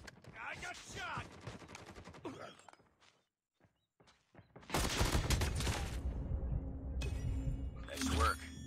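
Rapid gunfire bursts in the mobile shooter Call of Duty: Mobile, loud and dense in the second half after a brief lull, mixed with game voice callouts and effects.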